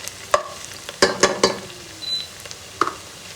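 Ginger, cardamom, cinnamon, onion and cloves frying in a pan, with a few sharp clinks and scrapes of a stirring utensil over a soft sizzle, close by.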